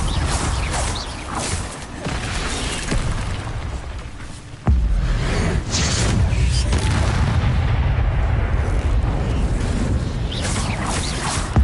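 Incendio fire spell cast in Hogwarts Legacy while fighting spiders, a heavy booming whoosh of flame erupting midway and roaring on loudly amid crashing combat noise.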